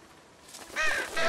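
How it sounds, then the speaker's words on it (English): Crow caws in The Walking Dead video game, two harsh calls rising near the end over a faint wooded-forest ambience, fairly close and loud. "Crow's mad."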